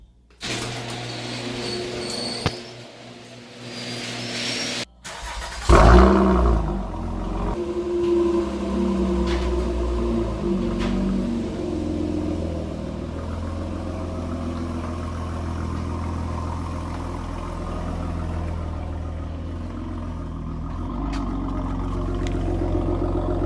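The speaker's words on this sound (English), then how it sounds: "Now we got warm idle." A 2015 Honda Accord V6 with a Borla exhaust and resonator delete cranks and fires up with a loud burst, then settles into a deep, steady idle with a throaty low rumble close by.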